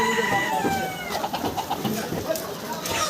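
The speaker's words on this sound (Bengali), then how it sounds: "কোয়েল পাখি কোয়েল পাখি" Repeated short bird chirps and calls over a steady background hum, moderately loud, with some cackling fowl-like notes mixed in.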